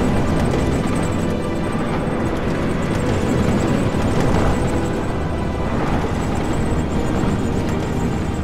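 Aircraft flying in for air support in the video game Blitzkrieg make a continuous dense rumbling drone, steady and fairly loud throughout with no break.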